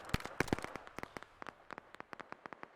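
Sharp gunshots crack in an irregular series in the video game Operation: Harsh Doorstop, a few loud close shots at first, then a steady patter of fainter, more distant fire.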